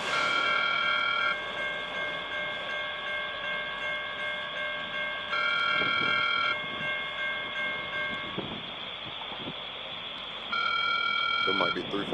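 An Amtrak passenger train rolls past on a Norfolk Southern line, a steady loud rumble of wheels and cars with sustained horn tones blaring in several bursts, heard close and continuous throughout.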